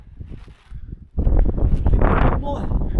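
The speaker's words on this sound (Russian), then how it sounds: "Ветер-то дует отсюда." Wind at a mountain camp near a tent during an Island Peak climb, faint buffeting at first, then a loud sustained rush of gusts and microphone wind noise with rustling, while people talk nearby.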